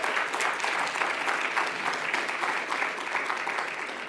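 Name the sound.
applause for Neil Aaronson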